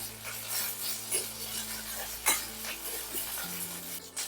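Curry leaves, crushed ginger and green chili paste with cumin sizzle in hot oil for buttermilk kadhi, a continuous close hiss broken by light scrapes and stirring taps.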